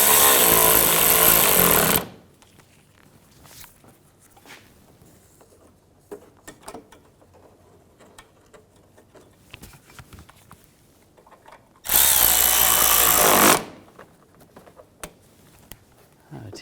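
A power tool drives in the front bumper screws of a 2006–2010 BMW 550i, with two loud, steady whirring bursts of about two seconds each, close up and separated by a long quiet gap.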